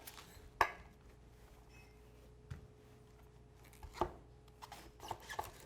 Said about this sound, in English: Let's take cabbage, cut it in half.